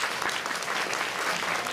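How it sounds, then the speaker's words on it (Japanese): Audience applause at Turtle Talk in Tokyo DisneySea, a dense, steady wash of many hands clapping together, fairly loud and sustained throughout with no voices standing out. "みんなで応援の拍手を送ろうぜ。"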